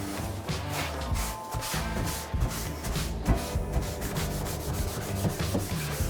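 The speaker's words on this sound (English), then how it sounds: "I'm just wiping off all the excess" A rag rubs steadily along the grain of a wooden pantry, wiping excess finish off the freshly painted wood with repeated soft strokes in a 1880s farmhouse kitchen. The dense scrubbing continues close-up and unbroken throughout.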